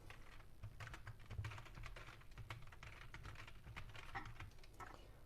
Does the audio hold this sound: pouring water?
no